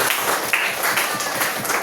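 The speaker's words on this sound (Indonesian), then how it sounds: "Tepuk tangan dulu untuk semua" Classroom applause from students, a continuous patter of many small hands clapping at moderate loudness, steady for the whole moment.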